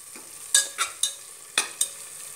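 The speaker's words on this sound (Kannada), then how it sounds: "ಹಸಿ ವಾಸನೆ ಹೋಗುವವರೆಗೆ ಸ್ವಲ್ಪ ಫ್ರೈ ಮಾಡ್ಕೊಳ್ಳಿ" Spices frying in a pan for kushka rice, heard as five or six sharp, separate scrapes or stirs with quick hissing bursts, each fading fast, over a quiet background with no speech.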